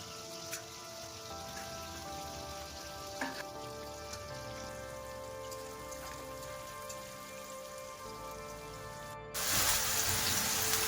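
Oil heating in a kadhai on a gas stove for jackfruit curry crackles in a steady dense hiss, then flares into a louder, brighter sizzle near the end as the tempering goes in; close, no talking.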